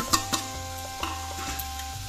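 Potatoes tumble into a pan of sizzling masala for aloo gobi, giving a few sharp clatters followed by steady frying and the scrape of stirring, close and moderately loud with no voices.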